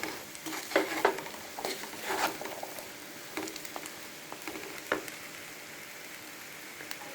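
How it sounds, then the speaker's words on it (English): Rice for a Kerala-style jackfruit biryani fries in a pot and gets stirred, giving soft sizzling with a few scraping stirs and light clinks close by, fading to a quieter sizzle without any talk. "Then again going to fry for some more time."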